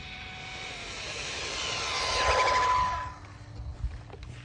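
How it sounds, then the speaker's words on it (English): A Jiusi WB12Pro RC car motor screams through a speed run, its high whine building and swelling as the car nears and passes, then dropping off sharply into quieter background noise. "you can hear the motor screaming but it's just not going as fast as I was expecting it"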